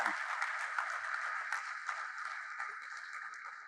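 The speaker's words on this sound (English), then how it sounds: "I think we should all give a big round of applause for AICA" Steady applause fills a convention hall at the inaugural function of the AICA Cashew Convention 2024 in Bengaluru, an even wash of clapping from a seated audience lasting the whole stretch without voices.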